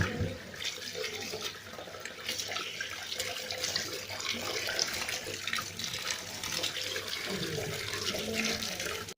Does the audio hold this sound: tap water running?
yes